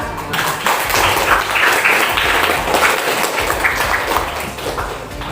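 Junior high students in a classroom clap their hands together, a loud mix of claps and taps with scattered voices underneath, rising quickly and holding for several seconds.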